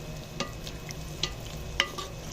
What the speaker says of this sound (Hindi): अभी सारे मसालों को अच्छी तरह से पकाएंगे हम